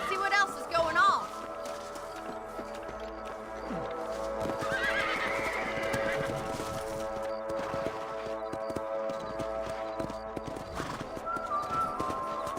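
Horses in the video game Red Dead Redemption whinny near the start and midway while hooves clip-clop steadily underneath, with voices heard at times.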